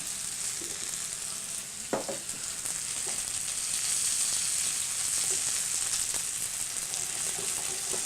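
Steaks frying in a pan coated with a thin layer of Dijon mustard and cracked pepper, a steady close sizzle that runs throughout with a few brief clicks and pops.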